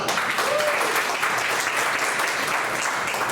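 A congregation at a church denomination's New Year greeting ceremony gives the general assembly president a sustained, dense round of applause, loud and even throughout.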